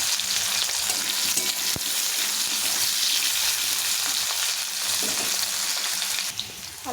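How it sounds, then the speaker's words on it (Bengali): Potato pieces fry in hot oil in a pan until reddish-brown, giving a bright, continuous sizzle with occasional scraping and stirring, steady from start to finish with no voices. "প্রথমে আমি আলুটাকে একটু ভেজে নেব, একটু লাল লাল করে আলুটাকে ভেজে নেব"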